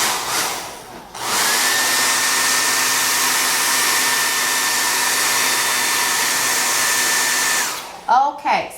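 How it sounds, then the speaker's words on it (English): A handheld blow dryer runs steadily on a freshly styled ponytail for about six seconds, a loud continuous whirring hiss with a faint whine, starting and stopping abruptly, followed by brief handling noises. "I'm just going to take the blow dryer and run a blow dryer on there for about a good 20 seconds"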